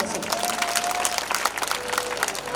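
Audience clapping at a live Punjabi stage performance, a dense, steady patter of many hands filling the whole moment, with a faint sustained tone running beneath.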